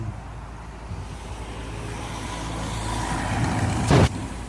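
A car drives along a road in the Welsh slate-quarrying village of Cwm-y-glo, its steady engine rumble and road noise rising gradually, with a brief louder burst near the end.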